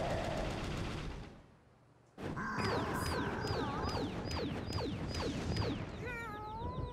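Rapid shots land on characters in Mario Party 10 over a steady music bed, a string of repeated zapping hits with descending chirps arriving in a quick regular burst after a brief lull.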